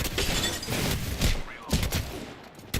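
Gunfire in an online ranked shooter video game: a few seconds of rapid bursts of shots, loud and close, with dense overlapping reports and effects.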